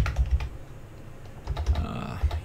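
Fingers type a stock name on a computer keyboard, producing close, crisp key clatter in short bursts with brief pauses between them.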